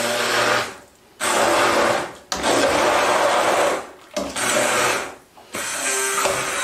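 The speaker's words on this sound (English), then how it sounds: "I'm just going to take my stick blender, pop it in the top, and then I'm finding those chunks of butternut squash, and I'm just going to blend them down." A stick blender purees chunks of butternut squash into spicy soup in loud, close bursts of whirring, about four runs separated by short pauses.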